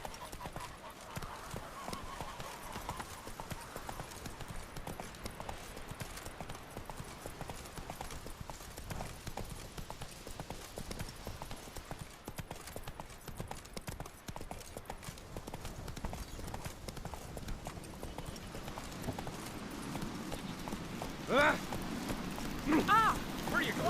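A horse gallops in The Witcher 3, its hooves making a continuous rhythmic clip-clop over a rough ambient bed, with a voice speaking briefly near the end.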